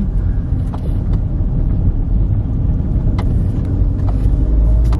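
A car engine hums and rumbles steadily from inside the cabin as it gathers speed on the road, a low continuous drone with slight rises in pitch and no talking.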